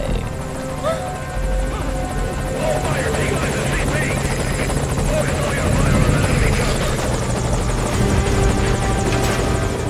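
Helicopter rotor and engine roar steadily and loudly throughout in Metal Gear Solid Ground Zeroes, a chopper arriving at the landing zone while game voices and gunfire-like sounds play over it.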